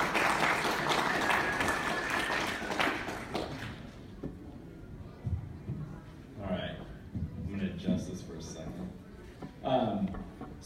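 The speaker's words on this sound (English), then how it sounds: "Give them a round of applause." Audience applause at a civic engagement event, a dense burst of clapping that fades after a few seconds into someone speaking.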